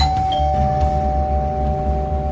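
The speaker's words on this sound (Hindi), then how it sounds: "दरवाजे की घंटी बजी।" A single sustained electronic chime rings out steadily, close and clear, over a low rumbling background, with no talking.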